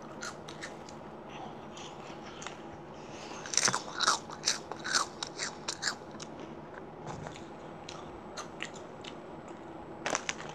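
Crunchy imported Cheetos snacks are bitten and chewed close to the mic in ASMR style, a quiet start giving way to a cluster of sharp crisp crunches midway and a couple more bites at the end.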